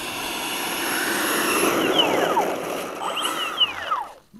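A Freewing Stinger 90 RC jet flies overhead at night, its ducted-fan whine sweeping loud and steady with Doppler pitch shifts as it passes, then fading out abruptly.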